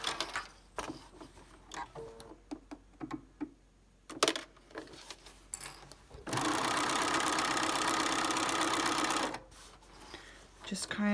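A sewing machine stitches layered quilted fabric for a star zip pouch, with short bursts and pauses and then a long steady run of rapid stitching, close up, and someone talking over the quieter stretches.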